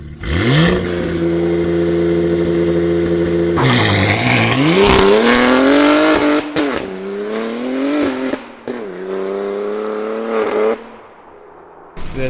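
BMW G87 M2 fitted with a full titanium exhaust, revving hard and launching with launch control, then pulling through gears with rising engine note and brief shift breaks, loud and close.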